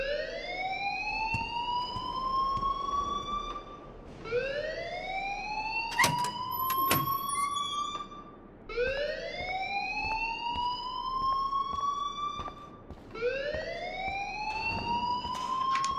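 A school alarm in Life Is Strange wails in repeated rising sweeps, four long whooping cycles with a few sharp electronic chirps in between, steady and fairly loud throughout.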